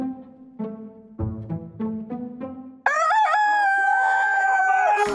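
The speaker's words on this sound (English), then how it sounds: "Wake the fun up with Pepper and Dylan and a rooster" Rooster clucking in a few short bursts, then letting out one long, loud crow close by that carries to the end.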